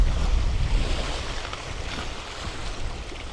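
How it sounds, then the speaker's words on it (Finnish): Choking sea waves and gusting wind out in an archipelago, with rough water and wind buffeting the microphone in a steady broadband roar, loudest at the start and easing slightly, with no voices. "Nyt toi aallot oli vaan liikaa tällä kertaa. Ja ehkä toi tuulikin."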